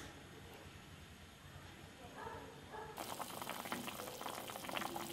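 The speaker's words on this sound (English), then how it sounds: "Now add your chili paste back into your pan, stir and let them cook for 5 minutes." Chili paste cooks in a pan with a steady bubbling, hissing sizzle that grows louder and busier partway through, close and without talk.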